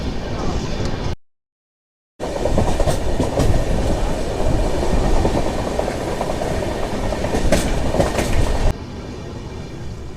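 The Bokaro Express rumbles and clatters as it pulls away from Simhachalam station, with steady wheel noise and rail clicks and a brief cut to silence early on, under speech.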